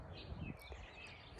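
Small birds chirp faintly outdoors, with a few thin, high tweets over a low, quiet background rumble and soft rustling.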